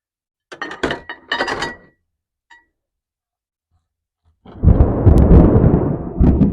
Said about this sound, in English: here comes the storm